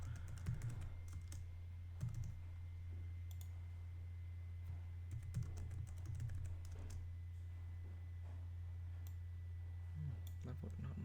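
A password is typed on a computer keyboard as faint, scattered key clicks over a steady low hum, quiet and close.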